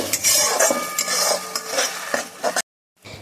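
Garlic, chili and ginger paste being stirred and fried in a pan, with a spoon scraping and clinking against the metal continuously under a soft sizzle, close up, then a brief silence.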